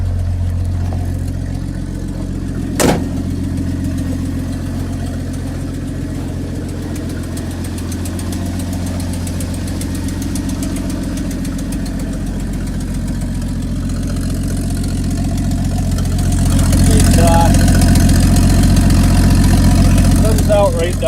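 A 1982 Ford F-150 with a 4.9L inline-six idles loudly with an open exhaust manifold, a steady deep throbbing drone close to the mic that swells louder near the end, with a brief click early on.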